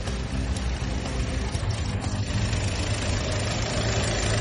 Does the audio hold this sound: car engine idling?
yes